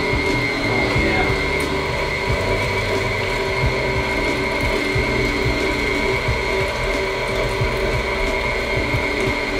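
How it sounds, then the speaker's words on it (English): Electric meat grinder grinding burger meat, a continuous mechanical whir and hum with rattling, ratchety clicks of the gears running steadily throughout. "now we're just gonna grind the burgers. So turn this guy on, add your stuff"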